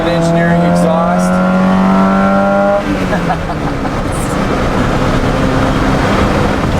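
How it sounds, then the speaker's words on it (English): A car fitted with an Ireland Engineering M10 engine, headers and an Ireland Engineering exhaust revs with a steady, loud droning tone that drops into a rougher rumble partway through. "This car has an Ireland Engineering M10 featuring surface turbulence flow on the head valves."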